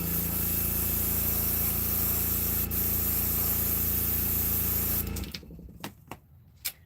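Spray paint hisses steadily and loudly onto a handmade wooden fishing bait, then cuts off near the end, leaving a few faint knocks and handling sounds.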